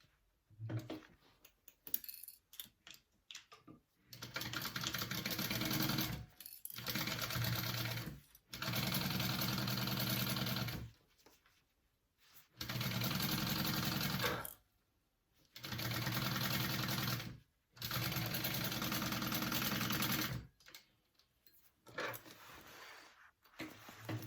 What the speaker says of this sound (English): you're gonna sew that at a 1/4 inch seam allowance